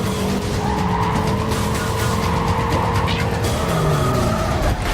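A race car's engine roars steadily in Need for Speed Carbon, with tires squealing and skidding through a corner. The sound is loud and continuous, with no speech over it.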